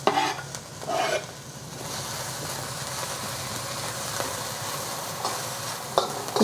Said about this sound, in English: We're gonna add the white and light green parts of the green onion.